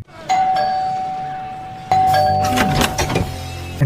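A doorbell rings out loud and close, a sustained electronic tone that fades, then a second ring with clattering bell-like overtones follows.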